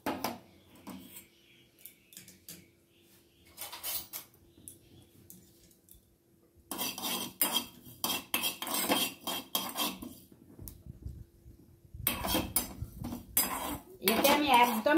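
Fennel seeds dry-roast in a heated empty bowl, stirred with a metal utensil: bursts of close metallic scraping and clinking, separated by quiet pauses, with the stirring growing busier toward the end.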